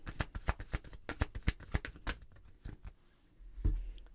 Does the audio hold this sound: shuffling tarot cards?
yes